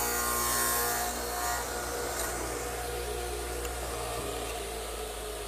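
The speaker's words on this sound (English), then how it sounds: "I want to make a dado in the upright for this armrest support" Cutting a dado into a wooden chair upright for an armrest support, a steady low rasping and grinding noise running throughout at moderate level with a constant hum underneath.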